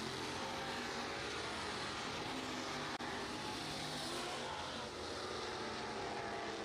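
Bomber Division race cars running hot lap qualifying at Cochran Motor Speedway in Cochran, Georgia, a steady loud broadband engine roar filling the whole stretch without letting up.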